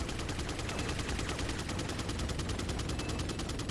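Enemy gunfire in Resident Evil 4, a dense unbroken rattle of rapid automatic shots at an even pace, loud and continuous with no talk over it.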